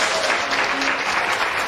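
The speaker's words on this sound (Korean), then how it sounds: "다시 한번 큰 박수 보내주시기 바랍니다." An indoor audience at a church celebration evening claps loudly and steadily for a children's performance, dense applause throughout.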